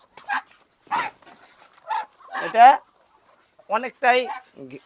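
Ducks on a duck farm give several short, harsh quacking calls in separate bursts, close by, with someone briefly speaking between them.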